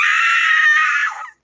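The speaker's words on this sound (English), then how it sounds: "We heard Jordan scream" A woman's high, piercing scream used as a horror story sound effect, loud and close, held for just over a second before cutting off abruptly.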